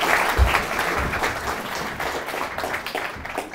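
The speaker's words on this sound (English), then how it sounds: "Can you give them a big round of applause?" Audience applause fills a lecture hall at an entrepreneurship talk, steady dense clapping throughout with no speech over it.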